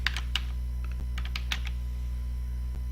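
Scattered clicks from a computer keyboard as a word is typed, light and close, over a steady low machine hum with no voices.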